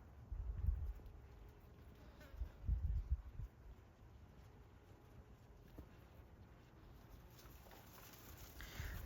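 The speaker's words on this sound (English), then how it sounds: "I've discovered a bumblebee nest in my garden." Bumblebees buzzing around a nest in a garden, low droning hums swelling loud as individual bees pass close to the microphone, then fading back to a quieter steady buzz.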